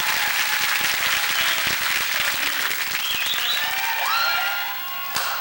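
A comedy show crowd applauds a live open-mic band with loud, sustained clapping, a few whistles and cheers rising within it, then tapering off toward a final clap.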